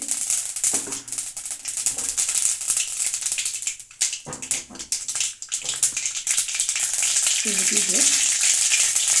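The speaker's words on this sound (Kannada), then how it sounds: "ಸಾಸಿವೆ ನಮಗೆ ಚೆನ್ನಾಗಿ ಸಿಡಿಲಿ" Mustard seeds pop and crackle in hot oil for a dried fish and field bean sambar, with a steady sizzle, sharp bursts scattered throughout, close by.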